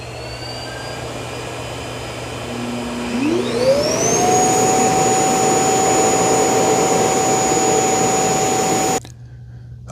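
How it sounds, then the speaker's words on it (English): Eufy X8 Pro robot vacuum's self-empty station starting an auto-empty cycle, a loud whooshing suction that rises into a steady high whine and holds for several seconds before cutting off abruptly near the end. "All right, it's going to do an auto empty."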